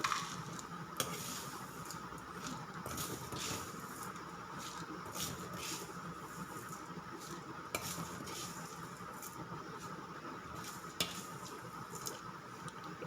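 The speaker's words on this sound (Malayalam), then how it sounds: "ചെറുതീയിൽ നന്നായിട്ട് മുരിച്ചെടുക്കുകയാണ്" Maggi noodles frying until crisp on a low flame, a soft continuous sizzle with a spoon stirring and scraping against the pan at intervals, quiet and close.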